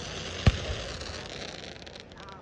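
Fireworks go off in a show at local fairgrounds, with one sharp loud bang followed by a long rumbling, crackling tail fading in the distance.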